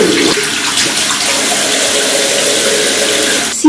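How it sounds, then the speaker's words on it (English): Tap water runs steadily into a sink as a face is rinsed during a nighttime skincare routine, a close, continuous splashing rush that stops abruptly near the end. "let's just rinse."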